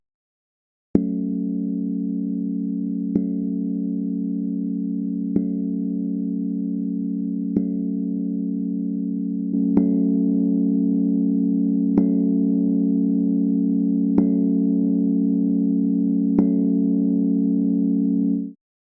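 A looping synth music phrase, first played clean and then with a Maschine distortion plugin switched on partway through, sustained tones with regular sharp attacks and a slightly fuller, louder sound in the second half; no talk.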